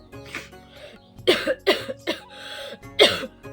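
A series of harsh, close coughs in uneven bursts, with short gasping pauses between them and no talking.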